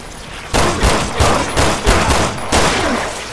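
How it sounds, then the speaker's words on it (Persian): A rapid burst of loud video game gunfire from Resident Evil Revelations 2, several sharp shots in quick succession, with a dense, echoing crackle between them and no voices. "اینجاست که مویرا بر ترس همیشگیش بر اسلحه غلبه میکنه و به صورت نیل شلیک و کارش رو تموم میکنه."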